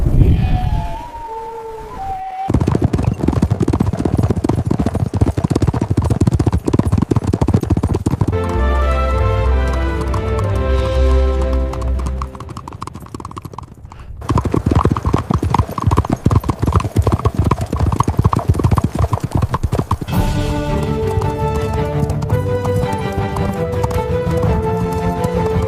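A horse gallops hard for the full length, its hooves clip-clopping in a loud, driving rhythm. A whinny cuts in near the start, and dramatic music plays under the hooves with a brief pause midway.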